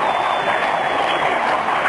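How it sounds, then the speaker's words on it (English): A large protest crowd in Liberation Square, Egypt, roaring as a dense, steady wash of massed voices and chanting, loud and continuous with no distinct words standing out. "What I can make out from the crowd, though, the chants"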